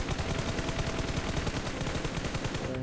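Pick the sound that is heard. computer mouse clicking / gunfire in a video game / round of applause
gunfire in a video game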